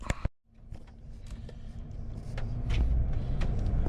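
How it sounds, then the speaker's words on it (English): A pickup truck driving on icy winter roads on a sunny day below freezing, a steady close road and engine rumble that swells gradually, with a few short knocks at the start and no talking. "I thought I'd get the pickup out of the garage and ride around, see what the roads look like."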